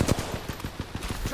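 Rapid bursts of video game gunfire crackle in an evenly spaced automatic rhythm over a steady bed of game noise, close and loud.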